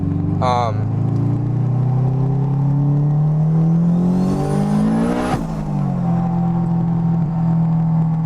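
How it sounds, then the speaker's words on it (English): Turbocharged 2003 Honda S2000 AP1 engine revving up and settling back as gears are rev-matched, a loud steady drone rising in pitch then dropping, heard from inside the car. "with this clutch, I do have to rev match for smooth transitions into the gears"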